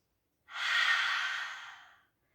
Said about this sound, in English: Take another breath here.